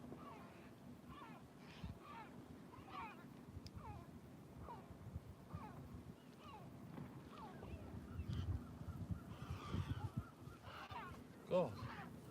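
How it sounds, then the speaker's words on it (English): Birds call repeatedly in the distance, honking and squawking at a steady pace over low rumbling background noise. "birds are making some right noises"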